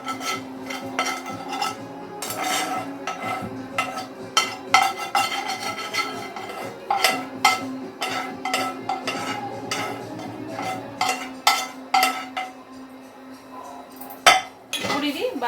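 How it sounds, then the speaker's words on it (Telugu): A spoon clanks and scrapes against a metal pot as moong dal roasted in ghee is stirred into boiling water for payasam, a busy run of close, irregular metallic knocks. "ఈ పెసరపప్పు ఉడికే వరకు ఇలా కలుపుతూ ఉండాలి"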